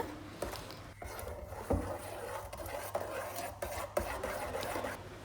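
Heegurala porridge being stirred in a pot after salt is added, a spoon scraping and rubbing against the pot in uneven strokes with occasional louder knocks, close and moderately quiet, no talking.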